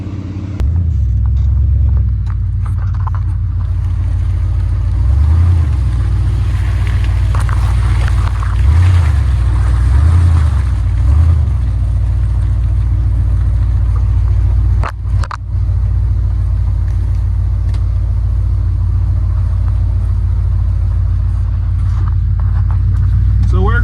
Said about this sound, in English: driving the four-wheeler